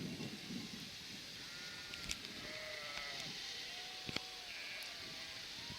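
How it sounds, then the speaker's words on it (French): Sheep bleat faintly in the distance on an alpine hillside above Lac d'Anterne, a few thin calls rising over a steady wash of wind. "Les moutons dans le fond."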